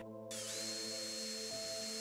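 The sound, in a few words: power drill drilling through a wooden jig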